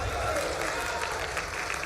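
A rally crowd claps in a dense, steady wash of applause, with voices mixed in throughout.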